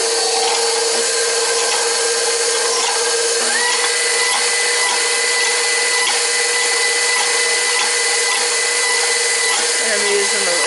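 KitchenAid stand mixer running with its whisk attachment while making pear and peach cobbler, a loud, steady whirring motor drone with a faint pitch shift partway through.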